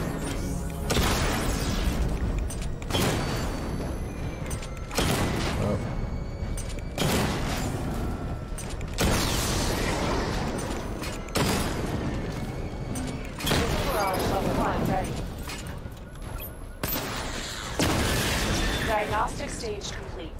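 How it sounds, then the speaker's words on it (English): A Batmobile missile barrage during a weapon test in Batman: Arkham Knight lets off a series of heavy booming blasts every couple of seconds, each a sharp impact with a short rumbling tail, while voices talk between and over the explosions. "Destroy targets to charge up weapon energy and activate missile barrage."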